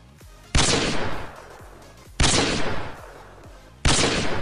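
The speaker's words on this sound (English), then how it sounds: "Bring the Intervention back, complete with the Modern Warfare 2 firing sound." Intervention sniper rifle from Modern Warfare 2 firing three loud, sharp shots about 1.6 seconds apart, each with a booming tail that rings out before the next.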